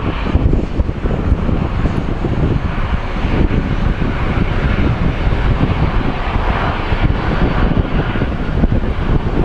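A heavy airliner at Sky Harbor International Airport gives a broad, steady roar that blends with loud wind buffeting the microphone, sustained throughout with no pauses and no voices.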